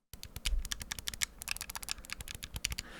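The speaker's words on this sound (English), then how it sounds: "The buttons are clicky." Clicky buttons on a Nintendo controller are pressed in a rapid, uneven run of sharp, close taps, some singly and some in quick bursts, with no voices.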